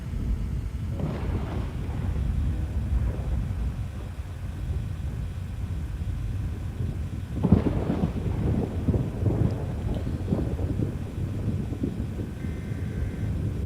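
Thunder rumbles through a storm in a storm-chasing video game, a steady low roar with a louder crack and rolling boom about midway, set over continuous rain and wind noise.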